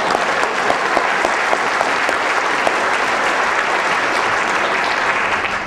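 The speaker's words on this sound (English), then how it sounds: "Let's give Victor a round of applause for being married to him." An audience at a roast event applauds loudly and continuously, a dense wash of clapping that holds steady before easing slightly at the end.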